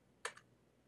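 A quick double tap of keystrokes on a computer keyboard while entering a reference into Bible study software, short and fairly faint against a quiet room.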